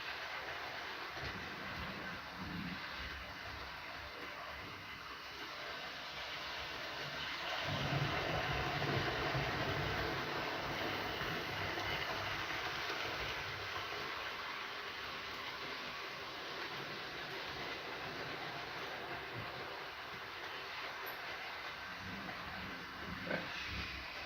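Model railway locomotives run on a track in a steady, continuous hiss and low rumble. A slight swell comes partway through and the sound stays even otherwise.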